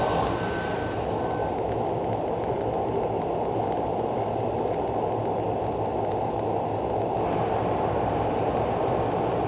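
Stick welding a 4G overhead fill pass at 90 amps with 6010 and 7018 rods makes a steady, close, loud frying crackle. It runs without a break for the whole stretch, with no voice over it.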